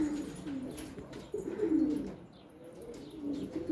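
Pigeons coo in soft repeated calls with occasional chirps, close by and steady, while a faint flutter of wings hints at birds taking flight outdoors.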